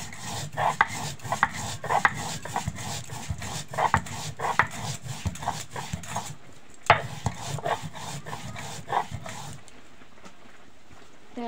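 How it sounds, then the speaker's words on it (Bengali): Black cumin seeds being ground on a grinding stone, a close, steady run of rhythmic scraping, rubbing strokes that pauses briefly, resumes, then stops, leaving quiet background. "প্রথমে আমি কালো জিরাটা বেটে নিচ্ছি।"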